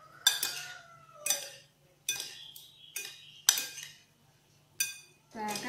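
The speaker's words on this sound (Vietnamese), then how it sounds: "Bạn trộn đều lên." Marinated pork and shrimp are mixed in a bowl with a utensil, making several quiet, irregular clinks and scrapes against the bowl spaced about a second apart, with a faint low hum underneath.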